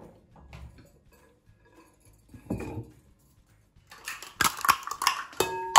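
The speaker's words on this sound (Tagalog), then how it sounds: "kuha lang tayo ng isang mixing bowl" Kitchen clatter of a mixing bowl being set down for Oreo cupcake muffin batter, metallic clinks and knocks building into a loud burst of clanking near the end after a quiet start.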